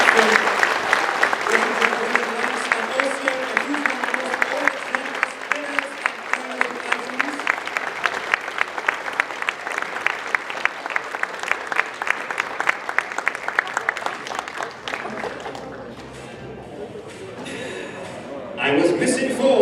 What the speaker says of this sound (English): how about a huge round of applause again for our wonderful tutorial